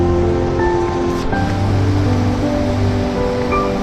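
Rushing water at Pykara waterfalls near Ooty, a steady, dense roar of flowing water running throughout without pause, fairly loud and close, with no voices.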